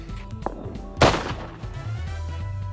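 A single loud, close gunshot from a heavy weapon in the survival game Rust cracks out mid-clip, with a brief echoing tail over low ambient game noise.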